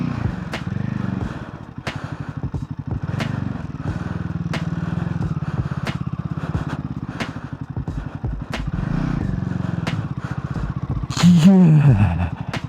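Royal Enfield Himalayan 450 motorcycle being ridden, a steady engine drone heard from on the bike with wind rush and periodic clunks over rough ground, and a short burst of a voice late on.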